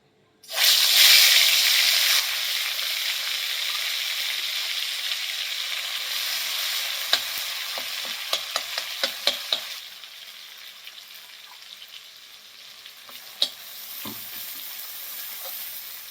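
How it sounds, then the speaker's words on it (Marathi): Egg curry masala dropped into hot oil, bursting into a loud, close, bright sizzle that settles into a steady frying hiss, with a few sharp clinks and spatters from the pan later on. "आता तेल गरम झालेलं आहे. आता यामध्ये आपण हा मसाला जो केलेला आहे तो घालायचा आहे बघा."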